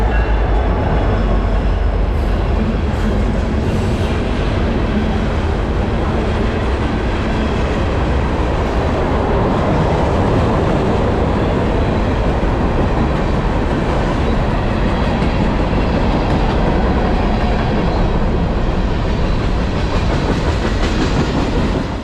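A loud, steady roar of a freight train passing at track speed, led by a CP ES44AC locomotive, with continuous rumbling and rhythmic clatter of wheels on rails, sustained for the whole stretch.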